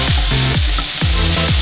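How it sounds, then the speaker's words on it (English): Bacon broken into pieces cooks in a dry pan with no oil, fat rendering into a steady, loud sizzle. Low swooping tones repeat roughly twice a second over the sizzle. "Take the bacon, just break it apart into the pan. Let that cook for a couple minutes."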